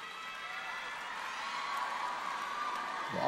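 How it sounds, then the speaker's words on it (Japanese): High-pitched audience cheering and screaming fills a figure skating ice show arena as Daisuke Takahashi returns for an encore, a steady, dense roar that swells slightly toward the end. "もう黄色い歓声が上がっています"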